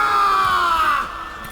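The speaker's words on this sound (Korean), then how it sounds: "여러분 축하의 박수 부탁드립니다" In Lost Ark, a loud crowd bursts into cheering and shouting in celebration, a dense sustained roar of many voices that fades noticeably toward the end.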